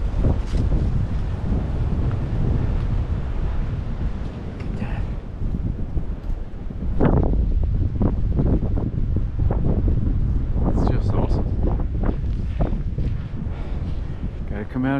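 Cold wind buffets the microphone on a mountain ridgeline along a hiking trail between Neal Gap and Low Gap Shelter, loud, gusty rumbling that rises and falls, with a voice talking intermittently over it.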